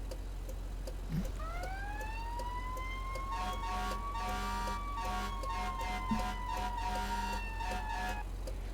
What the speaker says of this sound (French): Après il y a les sirènes pompiers qui sont modifiées.